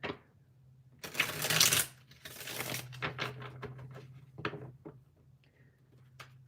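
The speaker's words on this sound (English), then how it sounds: "Let's give it a bit more of a shuffle." Tarot cards being shuffled by hand in several riffling bursts, close and fairly loud, with short pauses and lighter flicks between them.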